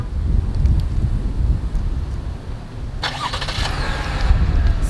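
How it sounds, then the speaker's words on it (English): A 2020 Chevy Blazer RS starts by remote start outdoors: after wind buffeting and low rumble, a starter whirs and the engine catches partway through, settling into a steady idle at moderate distance. "until you hear the car turn on"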